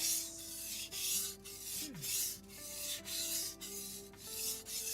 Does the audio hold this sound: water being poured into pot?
no